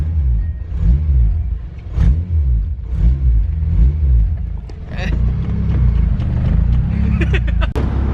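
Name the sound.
Honda Civic K20 engine revving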